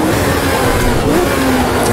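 A Brabham race car engine in a sim racing game of a 1971 Nordschleife race roars loud and steady at high revs, with a faint shift in pitch as it drops gears, and no talking.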